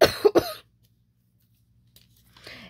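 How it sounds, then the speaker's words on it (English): Two quick, harsh coughs up close, then near silence with a faint rustle at the end. "And I know you do hate that cough"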